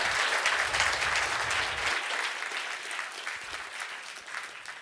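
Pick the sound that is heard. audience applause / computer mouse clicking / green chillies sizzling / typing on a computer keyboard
audience applause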